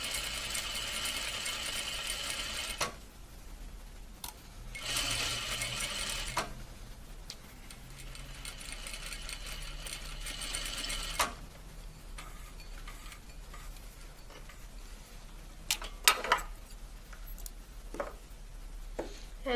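Sewing machine running a French seam along fabric with a 1/4 inch guide, heard in short bursts of stitching separated by quiet pauses, with light mechanical ticks and clicks in between.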